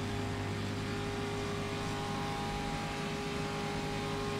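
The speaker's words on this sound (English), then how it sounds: "Should I make the car louder or quieter compared to my voice?" A 1956 race car engine at Monza in the rFactor 2 racing game holds a loud, steady droning roar with strong constant harmonics, running continuously with no talk over it.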